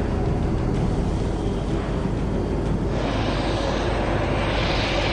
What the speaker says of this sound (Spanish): Cuentan con helicópteros Black Hawk y con Jet Citation, la aeronave más veloz de su flota